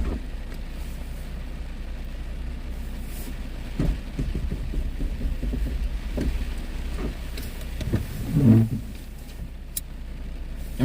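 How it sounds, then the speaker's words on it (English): Road traffic passes in the rain, a low rumbling wash with one vehicle swelling closer near the end, set against a constant patter of rainfall and no voices. "gonna stay here and listen to the traffic for a second"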